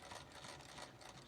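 A sewing machine double-stitches a custom shoe upper with a rapid, even run of needle clatter. It sounds faint and steady over a brief stretch, with no talking.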